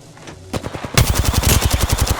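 Rapid automatic gunfire in the Apex Legends battle royale game, a short burst followed by a dense, steady stream of loud, evenly spaced shots with no voices over it.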